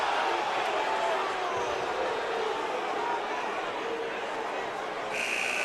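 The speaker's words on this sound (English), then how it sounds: "crowd doesn't like the foul call against Jalen Lindsey." Arena crowd at a college basketball game between Providence and Florida State at Mohegan Sun, a steady dense roar of voices and chatter reacting to a referee's foul call, loud and continuous throughout.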